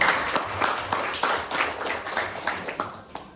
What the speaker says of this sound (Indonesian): Berikan aplaus kepada teman kita tadi